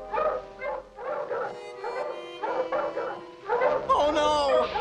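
Barking and yipping from an Eskimo's sled dogs in a snowy cartoon scene, a rapid series of overlapping barks and whimpers with howl-like notes, fairly loud and close throughout.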